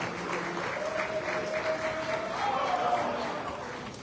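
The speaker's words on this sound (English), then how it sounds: "A round of applause for him." Audience applause for the PDP National Chairman at a Nigerian gathering, moderate and steady throughout, with a faint tonal sound and some voices mixed underneath.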